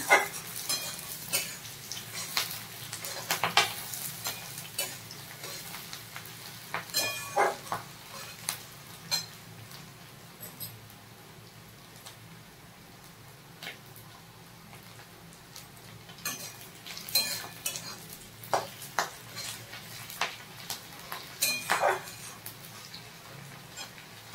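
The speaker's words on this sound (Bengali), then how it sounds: "পেঁয়াজটা ভাজা হয়ে গেছে লাল লাল করে, কালারটা চেঞ্জ হয়ে গেছে" Onions and slit green chillies fry in a pan under a quiet background sizzle, broken by irregular sharp scrapes and clicks of stirring that come in bursts over about twenty-four seconds.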